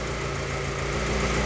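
A turbocharged SOHC Honda Civic D16 engine with locked VTEC idles steadily and close, a smooth continuous hum with very little chop and no voices.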